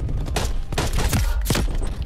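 Gunfire in Call of Duty Cold War, a rapid cluster of sharp shots in several bursts across two seconds, loud and close with no talk over them.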